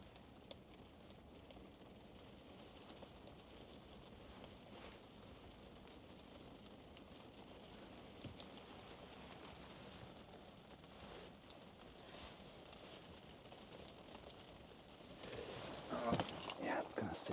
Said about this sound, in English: I'm just gonna show you how much rain is here.